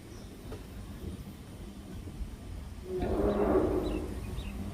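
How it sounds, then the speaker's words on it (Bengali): A passenger train rolls into Kalinarayanpur station on the Krishnanagar line, its rumble swelling and grinding louder partway through over a quiet platform, with faint squeals near the end. "আমার ট্রেন ঢুকছে এখন"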